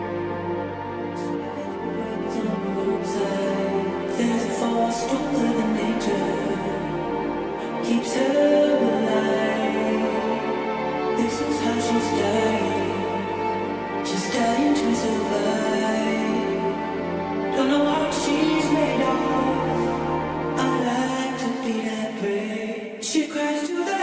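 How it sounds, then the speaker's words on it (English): The intro of a beat built on a vocal sample: sampled vocals and strings play in a dense, continuous layer at steady loudness, with low bass tones swelling and recurring bursts of bright texture throughout. "So the intro was just the vocals and strings"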